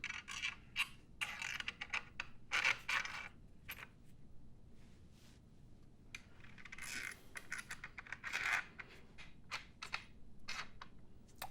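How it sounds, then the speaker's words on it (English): Metal washers and speed nuts clink and scrape as they slide onto threaded rods of a DIY woodworking frame clamp, in bursts of close, bright jingling with short quiet gaps. "we're gonna slide a washer and a speed nut onto each threaded rod."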